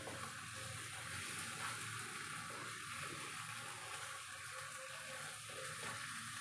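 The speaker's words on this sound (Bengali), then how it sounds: "একটু জল দেবো।" Water pours into a pan of fish cooking in oil, a soft continuous splash and hiss, faint and steady throughout with no speech.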